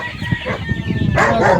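Chickens on a goat farm cluck and crow in a short, busy burst close by, with a dog-like bark mixed in and a louder squawking rise near the end.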